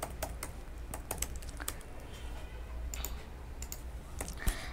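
Quick, uneven clatter of keys as code is typed on a computer keyboard, close and clear with short pauses, no talking.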